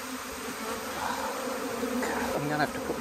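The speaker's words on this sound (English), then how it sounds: "Just going to shake these bees off the branch here, and they're going to hone in on that queen." A swarm of honey bees clustered on a branch gives off a dense, steady buzzing drone that stays loud and close throughout, with no talk over it.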